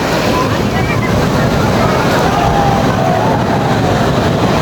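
Sea waves at Digha beach wash in under heavy wind buffeting on a close microphone, a steady loud roar with no distinct breaks.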